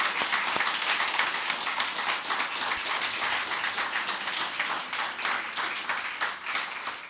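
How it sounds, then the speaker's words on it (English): An audience applauds a charity at an anniversary awards event, a sustained patter of many hands clapping, steady and moderately distant, fading slightly toward the end. "So a huge round of applause, first of all,"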